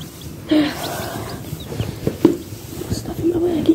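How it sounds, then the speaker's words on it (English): An old chicken clucks close by in short, scattered calls over rustling and background noise, with someone speaking nearby. "Got an old chicken right here we've had for a long time."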